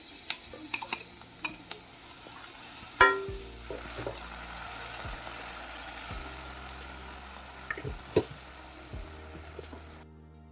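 A paste of onion, ginger and green chili frying in a pan for a village-style crab curry, with steady sizzling and occasional stirring scrapes and clatters, close and alone, ending abruptly.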